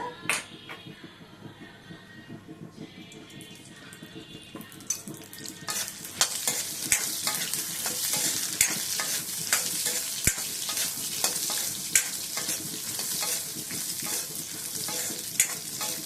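Peanuts roast in hot oil in a pan for a Nellore-style peanut chutney. A quiet start gives way to a loud, steady sizzle, with irregular spoon scrapes and clicks as they are stirred.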